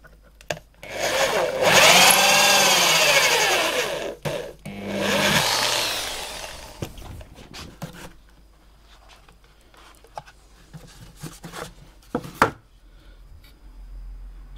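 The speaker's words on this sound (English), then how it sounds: "I'm going to use that clearance drill again just to mark the underside" A power drill with a clearance bit whirs loudly in two bursts into the wooden underside of a box guitar's neck, its pitch rising and falling as it bites, followed by quieter handling clicks and knocks.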